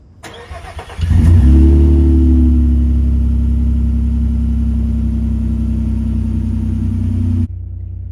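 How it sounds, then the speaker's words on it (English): Cold start of a Nissan V6 truck fitted with a Z1 exhaust: a short cranking burst, then the engine catches with a loud low rumble that settles into a steady, deep idle, cut off abruptly near the end. "let me get you a cold start of the truck, since some of y'all ask about the exhaust."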